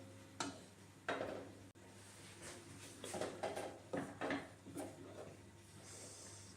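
A spoon stirs milk heating in a pot for kheer, making quiet, intermittent scraping and swishing strokes against the pot, with a steady low hum in the background.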